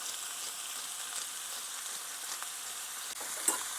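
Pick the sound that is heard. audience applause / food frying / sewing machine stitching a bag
food frying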